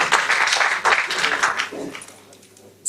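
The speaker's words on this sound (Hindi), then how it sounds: "एक बार जोरदार तालियों के साथ उनका स्वागत." An audience claps to welcome a village head onto the stage at a national celebration event, a loud burst of applause that gradually fades and thins out, followed by a brief quiet before a sharp sound at the end.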